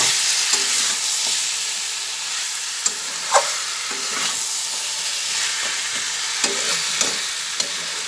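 Chicken murg malai sizzles steadily in a frying pan on a gas flame as it is stirred, with a constant loud hiss broken by a few sharp spoon scrapes and knocks, no voices.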